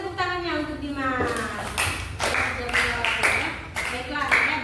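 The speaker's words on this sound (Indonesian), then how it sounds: "kita kasih tepuk tangannya untuk Dimas." Scattered hand claps in a classroom during a religious education lesson land as a few separate bursts, mixed with children's and a teacher's voices.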